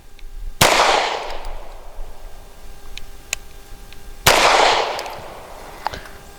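Two loud, sharp pistol shots from a Grand Power K100D at a shooting range, fired in double action a few seconds apart, each with a long ringing decay and faint clicks of handling in between.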